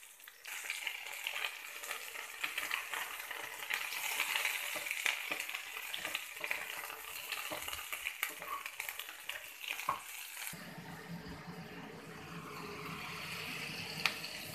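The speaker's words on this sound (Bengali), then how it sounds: "আলুটা ভাজা হয়ে গেছে, এবার আমি উঠিয়ে নেব যে কপিটা ভাজবো" Cauliflower fries in a pan with a soft, continuous sizzle and scattered crackles. Partway through, the sound shifts to a lower, quieter hiss, and no one speaks.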